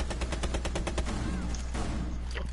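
Gunfire in a PS4 video game: a rapid burst of evenly spaced automatic shots, loud and close, followed by scattered softer shots and game noise.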